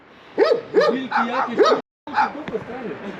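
A dog barks and yips close by in a quick run of four or five loud barks, then a short pause and one more bark, outdoors.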